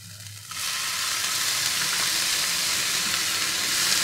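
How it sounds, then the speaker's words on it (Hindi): Paneer goes into a hot pan for a home-made salad, and a loud, steady frying sizzle starts at once and carries on without a break. "इसी वक्त मैं इसमें पनीर डालूँगी।"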